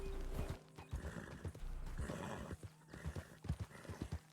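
A horse in Red Dead Redemption 2 trots with a steady clip-clop of hooves and lets out a whinny, moderately close, with no talking over it.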